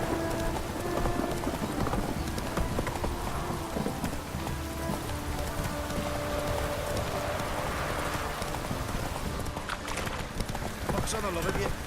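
Hooves of the horse Roach in The Witcher 3 clip-clopping steadily through rain, continuous rhythmic thuds over a dense rain hiss, with a voice speaking over it.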